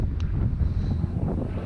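Cold wind blows outdoors at a metal detecting spot, heard as a loud, continuous low rumble and buffeting against the microphone, with no one speaking.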